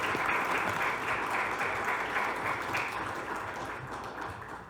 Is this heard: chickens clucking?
no